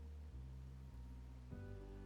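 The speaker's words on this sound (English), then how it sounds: "The rain's back." Steady rainfall in the video game Wuthering Waves makes a soft, continuous hiss over a low, even background hum.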